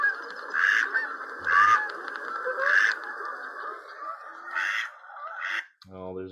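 A mallard drake whistles in short repeated bursts, about five high piping calls, with a hen quacking briefly near the end; close and fairly loud, with no talking.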